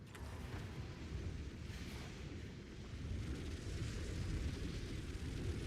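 Continuous rumbling barrage of flash grenade explosions fired with Nova Projectile in a video game, dense low booms blending into a steady roar that swells slightly toward the end, with no talk.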